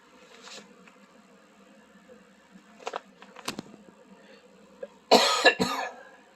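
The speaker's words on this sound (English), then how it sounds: "Sorry about all the coughing I'm doing in this video" Several harsh coughs from a sick person, close by: a soft one early, a cluster in the middle, then a loud burst of two or three coughs near the end, with quiet handling noise between.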